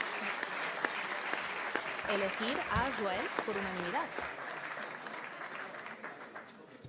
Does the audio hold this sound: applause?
yes